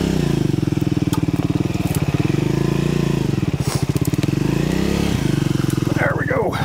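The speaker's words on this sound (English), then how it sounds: "Can I get between these trees with this narrow little bike?" A 2024 Triumph Scrambler 400X threads between trees on a woodland trail. Its engine gives a loud, close, steady drone that rises and falls with the throttle, and brief clattering and crunching come from the ground near the end.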